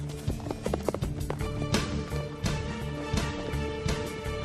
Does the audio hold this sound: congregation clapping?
no